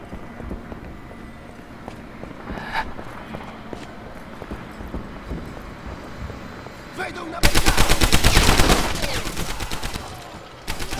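Bursts of automatic gunfire from a submachine gun in the World War II shooter Medal of Honor: Allied Assault, with lighter scattered shots and clatter first, then a loud sustained volley that fades into more rapid firing.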